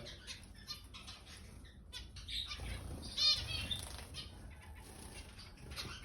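Caged Indian bulbuls flutter and flap their wings in quick bursts, with scattered chirps and squawks, fairly close and moderately quiet.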